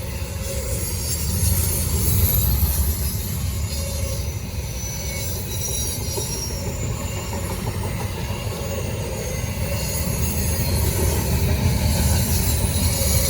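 A Norfolk Southern freight train rumbles past steadily in Charlotte, with rolling wheel noise and high metallic squeals rising and fading over the low drone.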